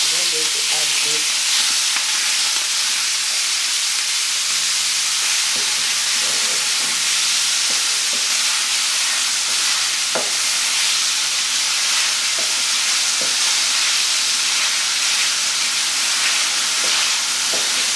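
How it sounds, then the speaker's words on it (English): Small pieces of gizzard seasoned with salt and black pepper fry in hot oil inside an Instant Pot, giving a loud, steady sizzle and hiss with occasional stirring clatter throughout. "So for protein, I'm using some gizzard. I cut it into small pieces and I've seasoned it with salt and some black pepper. I'm going to add this."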